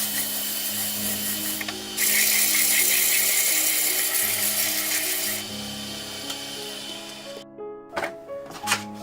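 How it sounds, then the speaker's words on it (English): Sandpaper rubs a spalted oak tea cup spinning on a lathe, trimming its edge; a steady motor hum runs throughout, with a brighter hissing rasp for several seconds in the middle before fading, then a few knocks at the end. "So now it's time to sand it down, trim this edge up a little bit with the sandpaper,"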